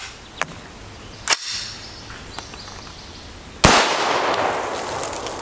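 A rifle firing .223 Remington 55-grain FMJ steel-case Golden Tiger rounds, heard as three sharp cracks spread apart, the last loudest, followed by a lingering noisy tail outdoors.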